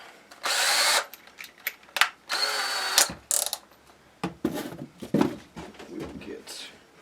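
A power driver whirs in short bursts as it drives small screws into a PRS-style guitar build, with brief pauses and clicks between runs and a voice speaking under the tool noise.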